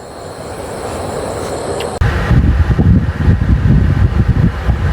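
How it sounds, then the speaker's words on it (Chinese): Cooling fan of a parked Luxgen N7 electric car running at night while camping, a steady low whir that grows louder and rougher after a sudden shift partway through. "风扇声很小"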